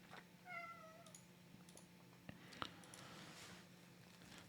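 A cat gives a faint, short meow early on, followed by soft taps and small bumps against a quiet room background.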